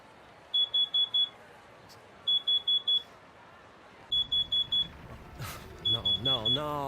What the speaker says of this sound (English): It was a smoke detector.